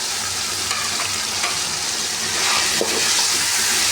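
Chicken, carrots and peas fry in a pan for a chicken hot and sour soup, giving a steady, close sizzle with a few soft stirring scrapes and no talk.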